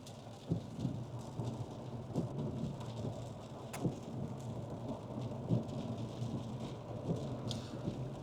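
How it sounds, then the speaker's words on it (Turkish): Calm, steady rain falling during a car journey, a continuous soft patter with occasional heavier drops and low rumbles in the background, no voices. "Sakin bir yağmur yağıyor."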